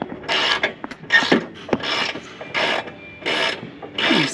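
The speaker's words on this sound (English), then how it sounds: "We got the bolt tightened all the way down." A ratchet clicks in repeated bursts while tightening a bolt on a Blue Ox flat-tow bracket fitted to a Scion xA, with about six close, even strokes and short pauses between them.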